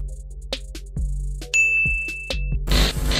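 A notification bell sound effect: a series of bright, clean dings ringing one after another, closing with a burst of shimmering chime and sparkle.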